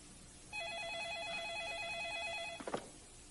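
A telephone in a film trills with a warbling electronic ring for about two seconds, moderately faint, then breaks off into a brief clatter as the receiver is picked up.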